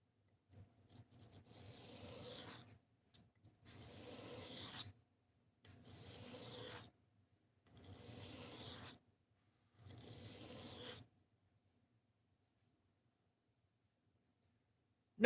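A knife blade is drawn across a sharpening stone in five separate close, scraping passes, each about a second and a half long with short gaps between, followed by silence.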